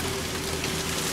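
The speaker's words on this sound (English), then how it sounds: "it's ages since we've had a really noisy downpour to listen to, but here it is," Heavy rain downpour drumming steadily outdoors at night in the UK, a dense, even hiss of drops on surfaces with no gaps across the moment.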